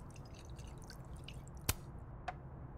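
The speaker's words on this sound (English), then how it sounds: "Are you pouring whiskey into your coffee?" Whiskey poured into a cup of coffee in the game Life is Strange: Double Exposure: a couple of quiet, brief liquid drips and splashes over faint background ambience, with no talk.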